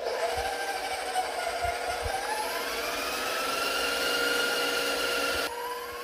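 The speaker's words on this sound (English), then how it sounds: "Alright, now let's get to whisking." Electric stand mixer with a whisk attachment beating butter, sugar, egg and vanilla, a steady loud motor whir with layered whining tones, dropping in level near the end.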